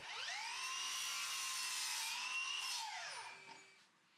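A miter saw cuts an angled furniture leg: a high, whining blade spins up, holds steady for about three seconds, then winds down and fades, with no voices.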